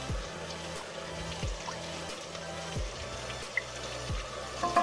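Spiced water pours and trickles steadily into a pot of kachnar mutton, with faint splashing and a few low thumps underneath.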